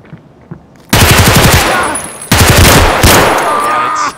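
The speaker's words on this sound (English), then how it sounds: "I shot him right in his fucking face" Loud automatic gunfire rings out in Escape from Tarkov, with two bursts of rapid shots in quick succession, the second following after a brief gap, close and sharp.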